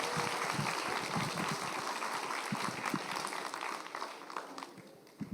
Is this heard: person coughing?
no